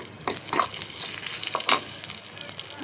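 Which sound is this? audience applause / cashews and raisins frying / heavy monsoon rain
cashews and raisins frying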